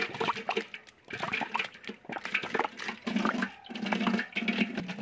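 Water from a village tap with an erratic supply sputters and splashes in uneven bursts, then settles into a steadier, louder gush filling a container nearby.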